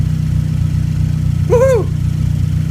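Turbocharged Mazda 6 MPS engine running with a steady low mechanical throb throughout, and a brief rising-falling whine swelling near the middle before settling back to idle.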